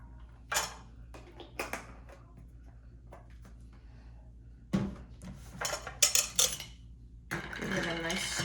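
A spoon clinks and scrapes against a glass while a Bloody Caesar cocktail is stirred, a few sharp metallic taps and rattles in bursts between quiet pauses, fairly close.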